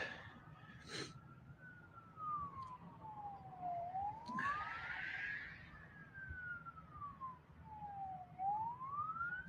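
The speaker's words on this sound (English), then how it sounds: "So I hear sirens going." A single police siren wails in slow rising and falling sweeps, steady and somewhat distant, over a low background rumble.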